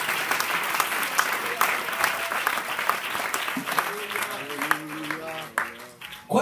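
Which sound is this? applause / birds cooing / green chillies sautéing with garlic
applause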